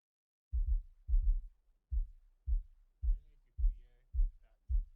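A soloed MIDI kick drum, low-cut around 20 Hz with a boost at 32 Hz, thumps eight times at a steady pace. The deep, booming hits are close and dry, with silence between them.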